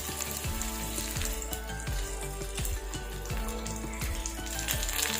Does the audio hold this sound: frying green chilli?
yes